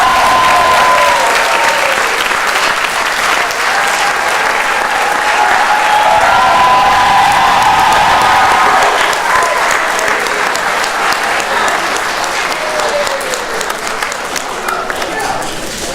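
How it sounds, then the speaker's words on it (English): An audience at a 2018 National Honor Society ceremony gives sustained, loud applause for a graduating senior. Dense clapping runs throughout, with scattered whoops and cheering voices rising above it. "we can all tell from this applause that Chloe's classmates and peers know that she deserves this recognition"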